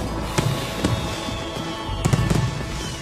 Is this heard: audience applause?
no